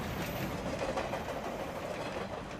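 A train in the Fullmetal Alchemist Brotherhood anime runs along its rails, giving a steady, low rumbling rush with faint clatter throughout, fairly quiet and with no voices.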